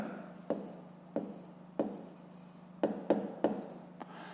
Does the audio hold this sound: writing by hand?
yes